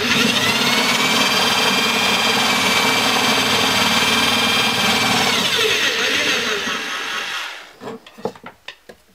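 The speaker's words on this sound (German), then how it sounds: "Also erst gerade, ein bisschen vorbohren und dann schräg." A power drill bores a pilot hole into spruce wood with a steady, loud whirring grind that winds down near the end, followed by a few scattered knocks and clicks.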